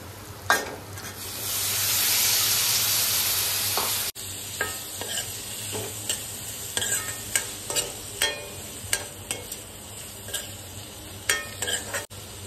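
A wet cashew vegetable dish fries in a pan, first with a loud burst of hissing, then with a soft sizzle under repeated close scraping and stirring strokes.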